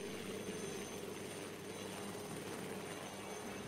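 A cartoon helicopter's steady rotor drone hums throughout, fairly faint and distant, with no voices.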